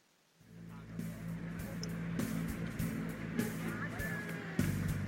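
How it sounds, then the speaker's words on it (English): Steady traffic drone of cars on a busy street in the game WithoutWithin, a low continuous rumble that swells after a quiet start, with a louder pass near the end and a voice talking over it. "And so, I returned to the busiest street in my area."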